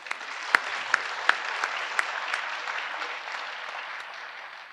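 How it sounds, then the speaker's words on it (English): An audience applauds a panel after a morning session, a moderate, steady patter of many hands with a few sharp, louder individual claps standing out near the start. "If we could give them a round of applause"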